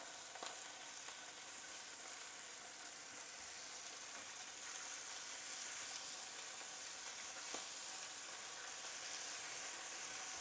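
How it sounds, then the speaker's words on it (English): Vegetables coated in balsamic and olive oil grill in a hot pan with a steady, continuous sizzle throughout, with no voices. "I like to just put it on, coat the vegetables as they're grilling in the pan"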